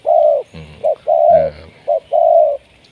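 A dove coos loudly and close by in a repeated phrase of low, hollow notes, short coos alternating with longer drawn-out ones.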